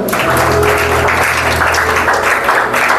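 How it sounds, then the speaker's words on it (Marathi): Loud, steady applause from a crowd at a church youth meeting fills the whole stretch, with a low hum of music beneath it. "एकदा आपल्या छान लोकांसाठी छान टाळ्या वाजवा बरं"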